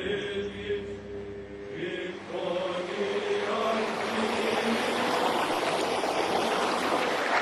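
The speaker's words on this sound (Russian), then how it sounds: "Берега этой маленькой реки Ситрахас помнят апостолов Павла, Варнаву и Марка." The small Sitrahas river in Cyprus flows as a continuous rushing, trickling wash that swells after a brief tonal passage at the start, then holds steady and fairly close.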